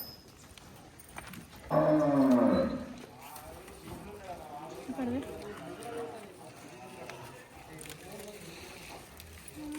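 A cow at a family home gives one loud, drawn-out moo lasting under a second, standing out clearly from quieter surroundings where people keep talking.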